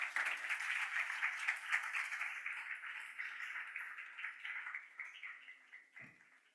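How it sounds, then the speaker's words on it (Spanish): A room of attendees at a clinical debate gives a doctor steady applause after his keynote lecture on artificial intelligence. The dense clapping holds for several seconds at moderate distance, then gradually thins and fades. "un aplauso al doctor para esta conferencia magistral"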